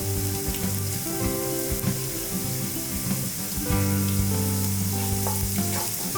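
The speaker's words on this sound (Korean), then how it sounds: "마늘이 노릇노릇해지고 기름에 마늘 향이 벨 때까지 볶아주세요" Garlic stir-fries in cooking oil until golden, crackling and sizzling in a close, steady hiss with faint stirring scrapes underneath and no talking.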